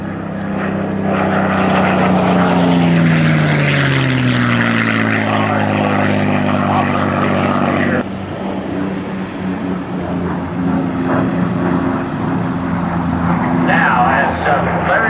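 A propeller aerobatic airplane rolls at the 2009 Edwards AFB air show, its engine droning loudly and steadily with a shifting pitch while an announcer talks over it on the public address.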